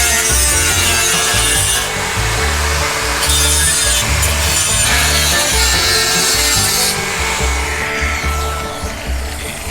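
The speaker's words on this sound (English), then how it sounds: "Now I'll just hit the flapper down here and take off the sharp burrs." A flap disc on an angle grinder grinds sharp burrs off sheet metal for a 1962 Chevrolet C10 pickup cowl, a loud, close, continuous abrasive rasp with pulsing pressure changes, fading slightly at the end.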